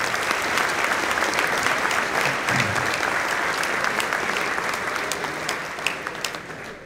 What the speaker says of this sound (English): Let's give them another great round of applause, please.